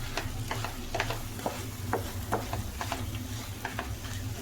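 Mutton chukka masala being mixed in a frying pan, a low sizzle under repeated light scraping strokes of the spoon in an irregular rhythm, no voices.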